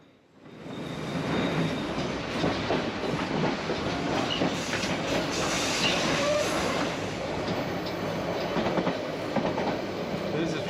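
A train rumbling along the tracks with a steady roar and faint clattering of wheels, loud and continuous from start to finish.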